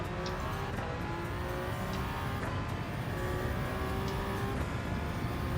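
A race car engine in a racing video game on the Sardegna track drones continuously at high revs, with pitch rising and dropping through gear changes and corners, a steady engine bed without speech.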